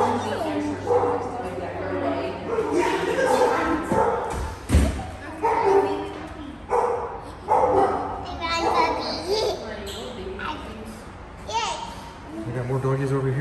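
A big dog barks in short bursts amid thumps and children's chatter, the barks loud and near, with people talking over much of it.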